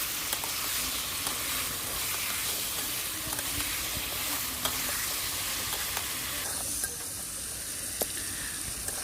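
Chopped bottle gourd stir-fried with chili powder sizzles steadily in a pan, a continuous close hiss with faint scraping stirs, the texture shifting slightly toward the end.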